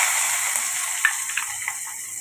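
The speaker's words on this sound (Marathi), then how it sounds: "हे बघा इथं मी कांदा टाकला" Chopped onion dropped into hot oil in a home kitchen sizzles with a steady, bright hiss, close by, with a few faint ticks and pops scattered through it.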